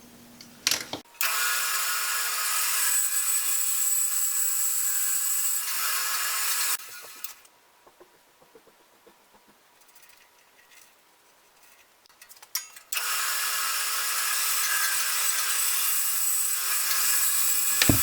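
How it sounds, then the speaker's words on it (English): A bandsaw cuts wood for an old Stanley block plane holder in a workshop, making two long, loud, steady cutting runs separated by a quieter pause with light handling noise. "So I'll cut that out on the bandsaw next"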